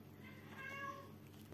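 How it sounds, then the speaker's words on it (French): An excited house cat meows indoors, a single drawn-out, faint, wavering meow over a steady background hum. "Mon chat, il est complètement excité, comme une puce."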